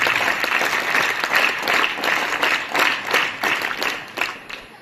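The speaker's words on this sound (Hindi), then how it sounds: "हम उनके लिए भी एक बार जोरदार तालियां बजाएं।" Loud, sustained applause from an audience at a Hindi public address on the nation and the constitution, dense clapping holding steady throughout with no speech over it.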